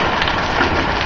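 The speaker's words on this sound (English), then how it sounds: "It's just hailing." Hail falling during a spring storm, a dense steady patter that is loud and close, with no talk over it.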